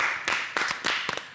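Studio audience on a television talk show clapping, a brief burst of several hands slapping together with an uneven rhythm, fairly close and clear with no voices over it.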